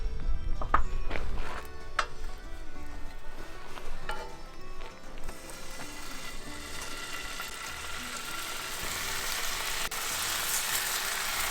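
Thick slices of bacon fry in pork lard on a camping trip, giving a steady close sizzle and crackle with a few clattering knocks early on, the frying hiss growing brighter and denser toward the end.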